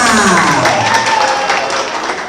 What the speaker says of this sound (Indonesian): Tepuk tangan untuk memberikan semangat